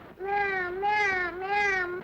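A single drawn-out, wavering meow, loud and close, a voice imitating a cat rather than a real one.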